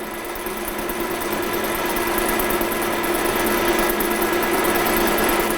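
A metal lathe takes a light facing cut on a workpiece, removing about 0.3 millimetre. It gives a steady mechanical hum and whir with a faint high-pitched cutting tone that grows slightly louder over several seconds, with no voices.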